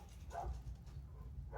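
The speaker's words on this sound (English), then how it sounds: "Also, the neighbor's dogs won't shut up." Dogs belonging to a neighbor bark at a distance, two brief muffled barks about a second apart over steady low background rumble, heard from a spot where a rear main seal is being replaced on a C10 pickup.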